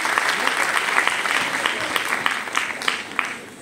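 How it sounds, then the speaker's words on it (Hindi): A crowd claps loudly and steadily at a dance festival, with dense, continuous hand-clapping and a few sharper slaps standing out before it tapers slightly at the end. "प्लीज आ जाओ एक बार के लिए जोरदार तालियां बजा दो"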